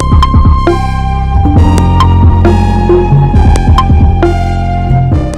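Layered virtual sampler instrument stacking up to three voices per note, processed with reverb, delay, drive, phaser and chorus, playing a short phrase of plucked, bell-like tones with lingering tails, loud and alone.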